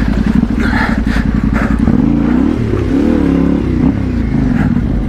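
A Yamaha Ténéré 700 adventure motorcycle rides off-road, its engine droning loud and close with rising and falling revs as the throttle changes over rough terrain.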